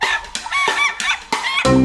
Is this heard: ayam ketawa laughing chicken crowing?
yes